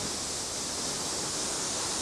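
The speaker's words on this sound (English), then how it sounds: "Look at the size of those waves up front." Heavy ocean waves and strong wind rush past a yacht racing in the 1989/90 Round the World Race, a steady, loud broadband roar of surf and spray with no letup.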